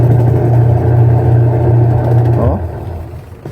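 A washing machine drum spins hard after its capacitor is replaced, giving a loud, steady low motor hum that sweeps down and slows near the end of the spin.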